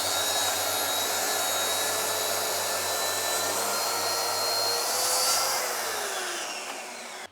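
A power saw rips through a live-edge wood slab section in a workshop, a loud, steady high-pitched whine held continuously for several seconds before easing off at the end, with no talking.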